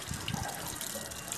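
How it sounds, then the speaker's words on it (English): Water gushes from the tap of a solar-powered hand-washing machine, a brief, close, steady splashing stream with no talk. "So the water comes and you wash your hand very well."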